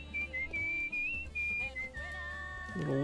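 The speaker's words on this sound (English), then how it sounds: "A little whistling." A clear whistled melody from the game Where the Water Tastes Like Wine drifts over a quiet musical backdrop, with held notes and gentle pitch slides, briefly joined by a low voice at the very end.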